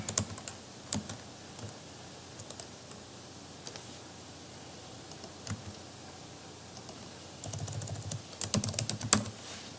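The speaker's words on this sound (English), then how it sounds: "you're going to have to type in their name" Someone types on a computer keyboard, entering a student's name into a search field; quiet, close clicking keystrokes come in short bursts with pauses, ending in a denser, louder flurry of taps.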